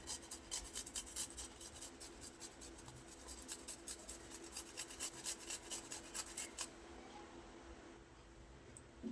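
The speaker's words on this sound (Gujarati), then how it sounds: "હવે 1 આદુના ટુકડાને આપણે છીણી લેવાનું છે." Ginger piece being grated on a kitchen grater, a rapid series of close, dry rasping strokes in a steady rhythm that stops near the end, leaving quiet room tone.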